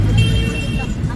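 A car rolls along a road in steady low rumbling engine and road noise, close and continuous throughout.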